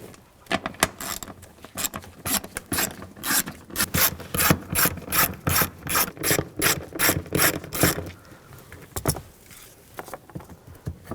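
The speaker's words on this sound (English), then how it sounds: "It's a 10mm socket. Take these nuts off." Ratchet wrench with a 10mm socket loosening nuts on a 2007-2013 BMW 328i 3.0L inline-six during fuel pump module replacement: close, crisp ratcheting clicks in steady rhythmic bursts with short pauses.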